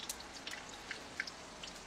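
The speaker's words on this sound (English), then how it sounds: "Are you just going to drip that all across my patio?" Water drips onto an outdoor patio in a few faint, sparse ticks and small splashes over a quiet background hiss.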